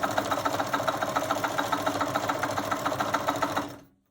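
A sewing machine runs steadily while stitching a quilt seam for a charm pack table topper, its needle setting a fast, even mechanical rhythm up close before stopping abruptly near the end.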